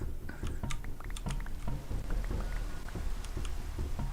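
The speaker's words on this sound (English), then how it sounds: "Rain." Rain falls in the survival game TerraFirmaCraft, a steady patter with scattered sharper drop-like ticks spread through the sound at a low, even level, with no voices.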